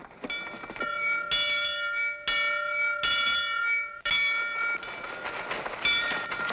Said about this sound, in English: People usually head for the meeting house when the bell tolls, not run from it.